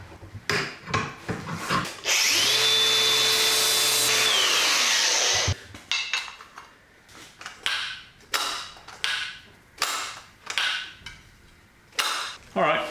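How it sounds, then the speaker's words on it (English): Power grinder on metal of a Polaris tailgate locking mechanism: a loud, steady whining grind for about three seconds, followed by a series of short scraping and rasping strokes with tapping. "I think I'll just grind it down,"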